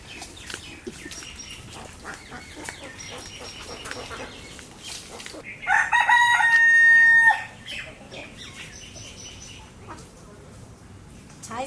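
A rooster at a rural village home in the rainy season gives one loud, drawn-out crow midway, while hens cluck and small birds chirp faintly around it.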